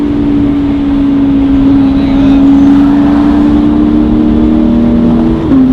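A pack of sports cars rolls past, loud and close, at a holiday toy drive car meet, a sustained engine drone with a steady low hum and slight pitch shifts, no talking.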